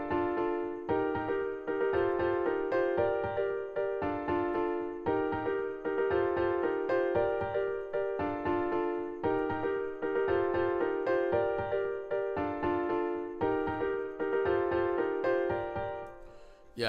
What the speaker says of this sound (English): together with the original piano Steinway to sound like this.